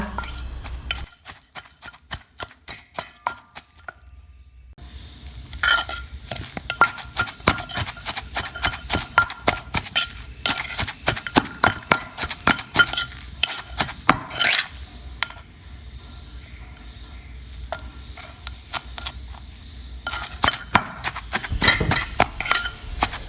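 Chilli, garlic and catfish pounded in a mortar for a Thai catfish chilli paste: a long run of repeated thuds and knocks in a steady rhythm, close and fairly loud, with short pauses between bursts and no talking.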